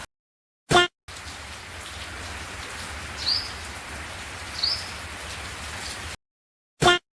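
Heavy monsoon rain in Unjha pours down as a steady broadband hiss for about five seconds, with faint bird chirps twice, bracketed by near-silence and short sharp bursts at the start and end.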